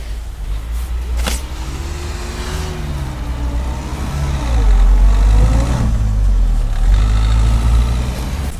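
Renault Duster engine straining loudly as the stuck SUV is pulled free, a steady low drone with rising and falling whine, swelling louder midway.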